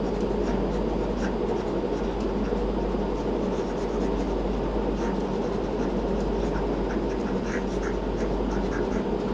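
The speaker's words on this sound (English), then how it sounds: "Let me erase this part." An eraser rubs across a classroom board in a continuous scratchy, steady swishing for several seconds, close and fairly loud over a constant low room hum, with no voice.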